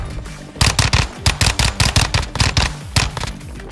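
Rapid bursts of Fennec 45 submachine gun fire in Modern Warfare 2, a fast staccato stream of sharp, close shots in a few short strings with brief pauses, no talking over it.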